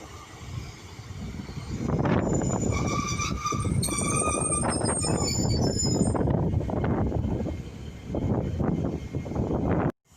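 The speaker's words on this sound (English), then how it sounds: "departing now is 150-267 with a 1203 service to Merthyr Tydfil" Passenger train unit 150-267 pulls out of a station on a service to Merthyr Tydfil, with steady low rumbling and clattering wheels, some squealing tones, and wind buffeting the microphone. No voices are heard.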